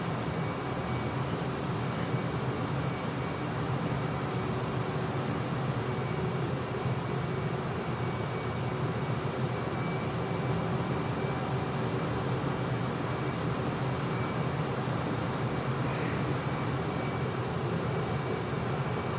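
A Su-57 Felon fighter jet in Microsoft Flight Simulator, flying slowly at about 180 knots over hills near Merimbula, Australia: a steady, unbroken engine roar that holds the same loudness throughout, with no voices.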